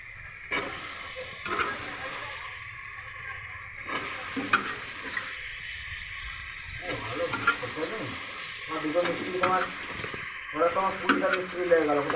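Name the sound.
taro and potato frying and stirred in spiced oil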